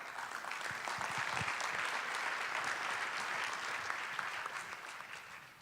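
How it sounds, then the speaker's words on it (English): A steady wash of audience applause, many hands clapping together for several seconds, fading slightly toward the end. "can you put a round of applause for our first couch discussion with Michael?"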